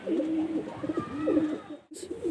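Chennai breed pigeons coo in a loft, repeated low rolling calls near and fairly loud, one after another with a brief gap near the end and no talking.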